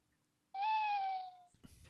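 A single drawn-out owl hoot, loud and close, holds steady for about a second before fading. A short burst of rustling noise follows after a brief quiet gap.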